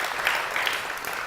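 Applause from the studio audience welcoming a public health director as a guest on a live talk show, a steady, dense wash of clapping that holds evenly throughout.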